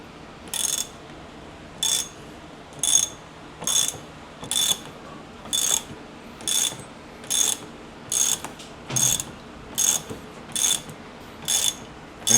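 An impact wrench rattles off a nut on a 2026 Harley-Davidson Street Glide in a workshop, about a dozen even, loud hammering bursts in a regular rhythm, close up with no talk.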